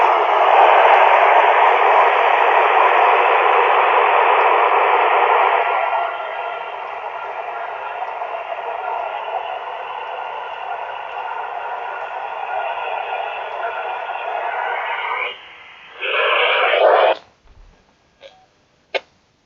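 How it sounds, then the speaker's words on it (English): Steady broadband white-noise static hisses from a ham radio receiver on an amateur net, loud and unbroken for most of its length, dipping in level partway through, then cutting off into near silence broken by a few short clicks. "I heard white noise."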